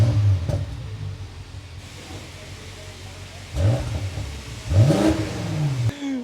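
A BMW F90 M5 Competition's engine rumbles at idle, then gives a couple of sharp revving blips with rising and falling pitch, loud and close.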